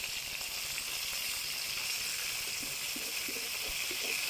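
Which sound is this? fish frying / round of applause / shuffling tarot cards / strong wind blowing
fish frying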